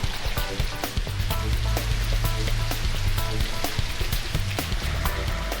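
An artificial rain rig set up to match average rainfall of two to three inches per hour sends a dense patter of drops onto surfaces, with steady hiss and crackle and a low rumble from the equipment.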